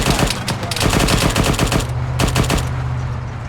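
Machine-gun fire during Marine detachment live-fire training: loud, close rapid bursts of shots in quick rhythm, pausing briefly before another burst, with no talk.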